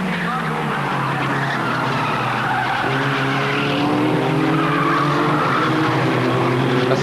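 Formula Ford race cars from the 1990 Formula Ford Festival at Brands Hatch brake hard into a corner, engines droning loudly with rising and falling pitches and tyre scrub, as a commentator talks over the din.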